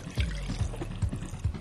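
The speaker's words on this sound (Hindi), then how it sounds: "ये रहा पानी, इसमें डाल दो।" Water poured into a container: a brief gurgling trickle with a few soft, rhythmic sloshing pulses, close and moderately loud.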